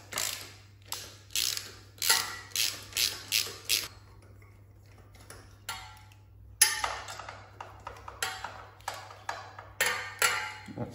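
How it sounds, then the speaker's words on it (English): A deep socket ratchet clicks in quick bursts while it loosens the domed nuts on the exhaust collar of a Royal Enfield Classic 350. The ratcheting ticks come close and fairly clear, separated by short pauses. "There's domed nuts on it, so I'm using a deep socket to get into that."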